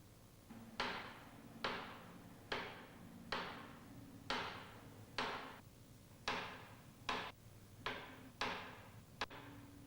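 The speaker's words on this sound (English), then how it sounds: "Tap the bearing case with a plastic hammer and set it evenly on the ball bearing." About a dozen sharp, evenly spaced taps from a plastic hammer on a bearing case of a Mitsubishi Selfjector purifier drive shaft ring out one by one at close range, each decaying quickly in a quiet room.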